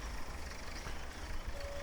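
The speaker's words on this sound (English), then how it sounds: "Now we shall start up our tractor" A tractor engine on a bright autumn day during a 1961 potato harvest, its low, steady rumble running close and loud throughout, with no clear separate start-up.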